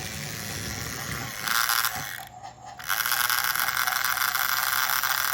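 A talking toy train engine runs with a loud, grinding gear, giving a steady mechanical whir and rattle up close, with a brief pause partway through before the whirring resumes.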